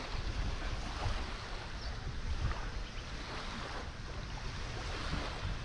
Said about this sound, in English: just the gentle lapping of waves here